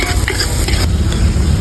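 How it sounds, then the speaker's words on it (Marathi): Onions frying in oil in a pan for veg khichdi, a loud dense continuous sizzle heard close up with faint stirring scrapes. "कांद्याला नॉर्मल असं फ्राय करून घ्यायचं"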